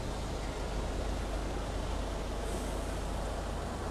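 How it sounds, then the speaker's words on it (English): Steady urban ambience outside Victoria train station in London: a continuous, even wash of traffic and distant rail noise with no distinct events, moderately loud throughout. "I am in Victoria, just outside the train station"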